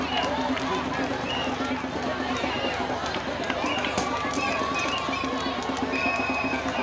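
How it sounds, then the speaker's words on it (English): A crowd of Ivorian refugees cheering and shouting outdoors in Zwedru, Grand Gedeh, as President George Weah arrives, a continuous dense roar of voices with scattered whistles and cries at moderate distance. "As you are hearing, the people are cheering in the background."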